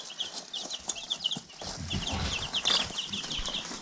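Baby chicks on ground corn cob bedding, with many quick high peeps and cheeps chirping together nonstop, plus soft scratching and rustling in the litter close by.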